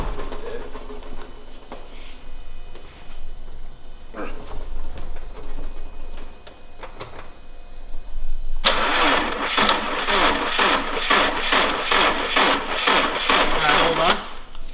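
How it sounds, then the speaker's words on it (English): Cold start of a modified Subaru engine: a few seconds of quiet shuffling and faint voices, then the starter cranks and the engine catches, running loud and rough with a rapid, pulsing idle close to the microphone. "this is the first cold start"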